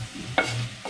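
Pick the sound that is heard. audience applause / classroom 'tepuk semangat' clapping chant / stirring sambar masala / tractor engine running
stirring sambar masala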